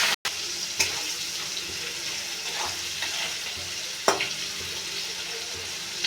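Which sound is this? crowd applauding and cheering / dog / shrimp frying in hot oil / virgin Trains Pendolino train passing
shrimp frying in hot oil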